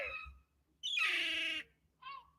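A small bird gives a loud, harsh, drawn-out squawk, pauses, then lets out a second, shorter squawk, close by with no talking.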